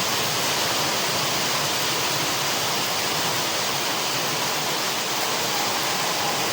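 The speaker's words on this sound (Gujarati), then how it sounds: "હવે જોરદાર વધી ગયો બહુ વરસાદ" Heavy rain pours down in a dense, steady roar that stays constant throughout, with no voices.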